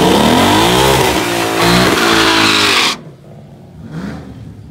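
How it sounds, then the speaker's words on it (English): A 2018-19 Mustang GT revs hard during a line-lock rolling burnout, a loud sustained engine roar that climbs and wavers, then cuts off abruptly, followed by a quieter short rev. "You get your rolling burnout."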